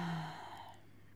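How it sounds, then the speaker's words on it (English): A single deep breath, close and soft, a long airy exhale that fades over about a second with no talk. "I invite you to take a deep breath with us"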